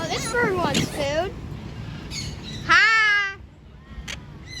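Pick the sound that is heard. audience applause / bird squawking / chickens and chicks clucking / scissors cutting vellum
bird squawking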